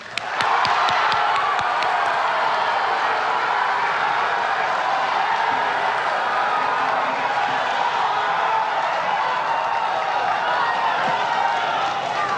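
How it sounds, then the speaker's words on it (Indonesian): A large audience at a 2014 Indonesian presidential candidate debate cheers and claps continuously in a loud, dense roar of crowd noise after a few sharp claps at the start. "Silahkan tepuk tangan."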